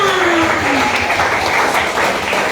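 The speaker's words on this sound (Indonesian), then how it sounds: "tepuk tangan dulu buat abangnya" A church youth congregation at an HKBP pre-teen service applauds in a dense, continuous wash of clapping, with a faint tonal whistle-like sound sliding through early on.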